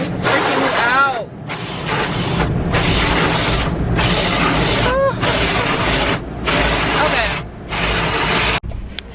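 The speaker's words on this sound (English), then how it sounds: "I really fucking hate car washes" Automatic car wash machinery works around a car in repeated bursts of loud whooshing and spraying, separated by short gaps, with some mechanical squeaks and a final clunk.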